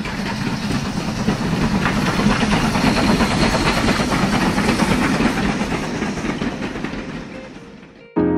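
A train on the main line running along elevated tracks in central Kobe, a loud continuous rumbling roar with rhythmic clatter from the wheels, sustained for several seconds before cutting off.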